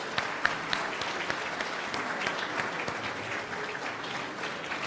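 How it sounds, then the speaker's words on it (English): A church congregation gives a warm round of steady clapping that goes on evenly throughout, at moderate volume, with no voices over it. "Give them a round of applause."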